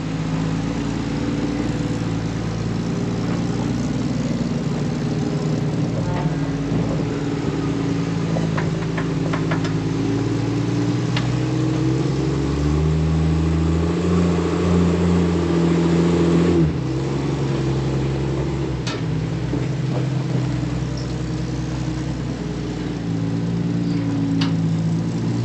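An off-road vehicle engine idles and revs in a steady mid-pitched drone while backing down from a trail obstacle, rising and dipping slightly as the throttle changes.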